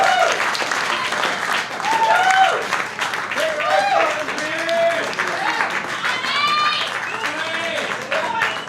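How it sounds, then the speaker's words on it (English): Steady audience applause fills a comedy club venue, with voices talking and calling out over the clapping throughout. "round of applause"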